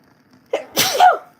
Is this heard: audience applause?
no